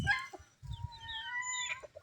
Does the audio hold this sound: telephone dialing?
no